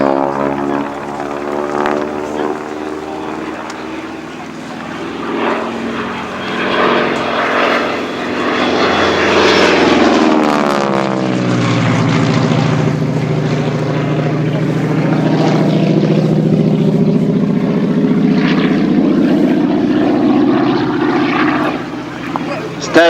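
A T6 propeller aircraft flies at the East Kirkby airshow, its engine droning loudly throughout and sweeping down in pitch as it passes around midway, with a commentator talking over the public address.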